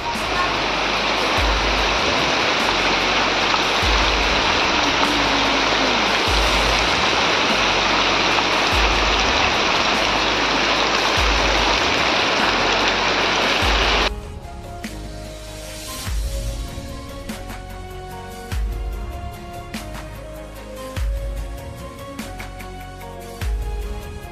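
Heavy monsoon rain in a Konkan village roars loudly and steadily for about fourteen seconds, then cuts away to quieter background sounds with voices.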